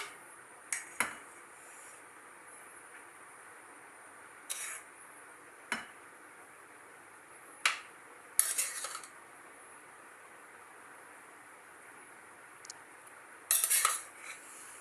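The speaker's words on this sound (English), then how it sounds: "transferring this to the bowl. Slowly, mix it very slowly." Paneer pulao being mixed slowly in a bowl, sparse sharp clinks and scrapes of a spoon against the bowl spaced out over quiet stretches, with no talk.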